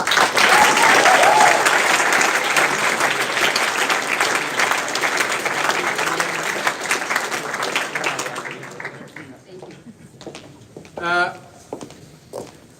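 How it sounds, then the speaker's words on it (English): Audience at a moot court competition round bursts into loud, sustained applause that fills the room and gradually fades, with a few scattered claps and footsteps trailing off at the end. "a round of applause for Belgrade, please."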